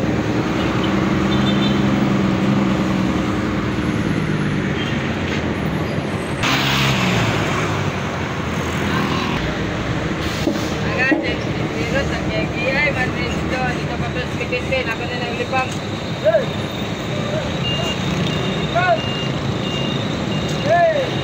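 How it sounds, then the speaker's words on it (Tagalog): North Bus Terminal with idling buses, passing traffic and repeated reversing beeps, heard under people talking. "Nasa North Bus Terminal na po tayo."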